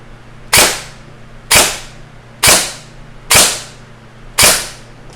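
An airsoft ICS M4 rifle fitted with a Nozz-X adjustable air nozzle fires five sharp, loud single shots, each a crisp crack with a short decay, spaced about one second apart over a faint hum.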